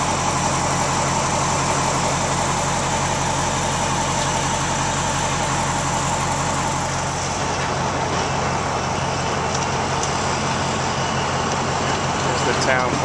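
A Cat 955L track loader's engine runs steadily while pushing hurricane debris, a loud continuous diesel drone that eases slightly midway, with someone talking over it.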